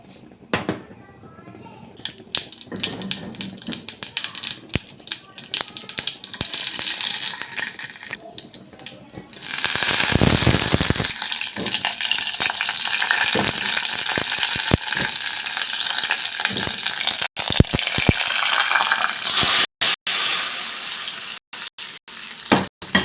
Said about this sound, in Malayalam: നമ്മൾ എണ്ണ ചൂടായി കഴിഞ്ഞാൽ നമുക്ക് കുറച്ച് കടുക് ഇട്ട് കൊടുക്കാം